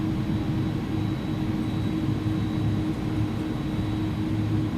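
Jet engines of an iniBuilds A300-600F freighter spooling up in X-Plane 11, a steady loud low roar with a faint high whine held throughout, no talk.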